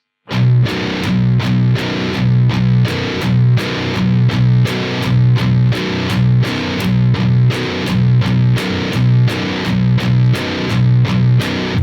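A loud, crunchy distorted baritone guitar riff of palm-muted power chords on the open 6th string hammers out a driving, repeating rhythm without any voices.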